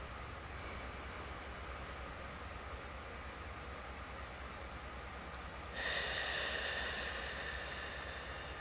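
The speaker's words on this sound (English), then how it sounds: "And just gently breathe out through your lips." Gentle breathing during a guided Kundalini meditation: a soft, steady breath, then a clearly louder, airy exhale through the lips that rises suddenly and eases off, close to the microphone with no talking.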